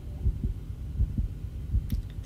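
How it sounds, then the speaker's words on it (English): Muffled heartbeat in a TV drama scene, a slow steady thump-thump pulse repeating about four times at close range, low and soft with no talk over it. "Is he, like, hearing her heartbeat?"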